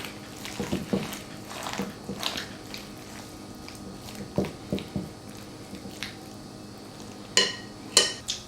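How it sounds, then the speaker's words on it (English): Macaroni and cheese is scraped and spooned into a cast iron skillet, giving irregular soft squishes and sharp metallic clinks of a utensil against the pan, close up with no talking. "All we got to do now is add it to our cast iron skillet."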